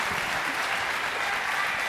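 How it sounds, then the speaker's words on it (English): Audience applause for a football coach at an evening event honoring Atlanta Falcons quarterback Matt Ryan, a steady, dense wash of clapping from a large crowd filling the room, loud and unbroken throughout. "Y'all give Coach another round of applause."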